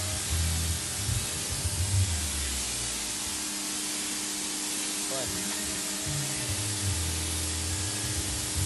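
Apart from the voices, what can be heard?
water spraying from a garden hose while a dog plays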